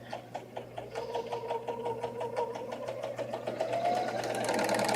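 A serger runs in a fast, steady mechanical chatter with rhythmic stitching pulses, speeding up slightly toward the end, close and continuous with no talking.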